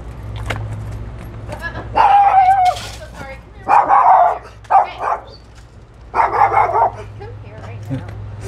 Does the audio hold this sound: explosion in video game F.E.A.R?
no